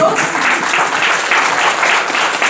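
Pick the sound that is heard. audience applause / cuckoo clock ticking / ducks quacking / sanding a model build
audience applause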